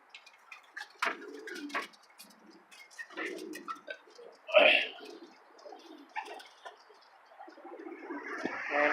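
Pigeons of Cuban powder and Homer breeds coo and call in a loft, soft repeated coos with brief wing flutters and chirps, close and moderately loud over a quiet background.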